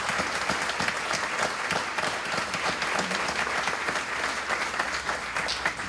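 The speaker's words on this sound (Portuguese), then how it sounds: "Pediria uma salva de palmas para eles os dois." A crowd at a Portuguese community festival in Lowell gives a steady, full round of applause, dense clapping sustained evenly from start to finish.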